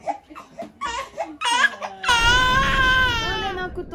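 A baby whimpers, then breaks into loud, sustained wailing cries close by, with no speech in between.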